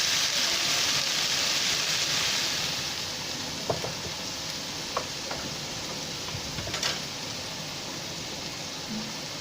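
Onions and potatoes sizzle as they fry in a pan, a steady hiss with a few sparse clicks and taps from stirring, no talk.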